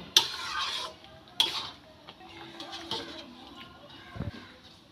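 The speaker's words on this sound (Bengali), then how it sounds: "লবণটা দিয়ে খুব ভালো করে আমি নেড়ে নিলাম।" Salted, partly cooked rice stirred in a pot, heard as several sharp metallic scrapes and clinks of a utensil against the pot, close and intermittent, with softer shuffling between strikes.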